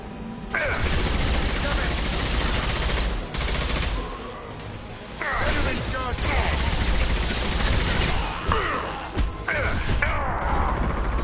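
Loud sustained gunfire fills a Mass Effect 2 firefight: rapid automatic bursts, crashes and impacts go on nearly nonstop, with short lulls and voices mixed into the combat.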